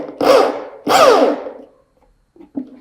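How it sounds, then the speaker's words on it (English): Corded Bosch GSB 10 RE 500 W drill driving a screw at low RPM, two close whirring bursts with the pitch sliding as the screw seats, then a pause and a couple of faint clunks. "So we take a screw and we do a screw driving. So again, at the lower RPM."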